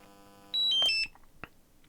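A DJI drone remote controller powering off gives a short electronic beep sequence: a few clean, close tones stepping in pitch over about half a second, followed by a faint click.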